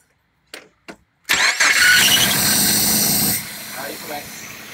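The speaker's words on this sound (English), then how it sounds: "Go in there and crank it back up." A Nissan Frontier pickup's engine cranks briefly after a couple of clicks, then fires up with a loud, hissy roar up close and drops back to a lower idle.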